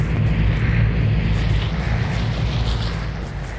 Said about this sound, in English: Damn, that plane is loud.